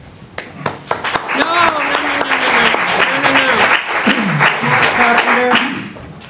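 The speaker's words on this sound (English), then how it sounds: "Please, no applause." A debate audience in a village hall applauds loudly and steadily for several seconds, with voices speaking over the clapping.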